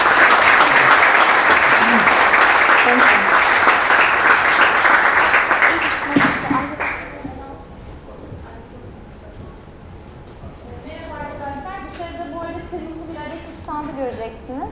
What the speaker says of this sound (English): please put your hands together and please give them a very big round of applause